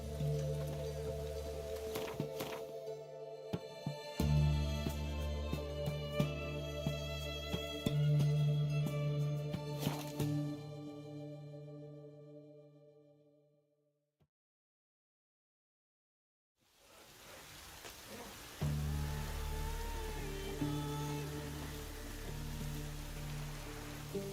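Steady rain patters over layered game music in The Witcher 3: Hearts of Stone, cutting to near silence midway before the rainfall and music return.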